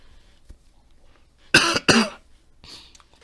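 Two sharp, close coughs in quick succession from a man, loud against a quiet room, followed by a faint breathy exhale.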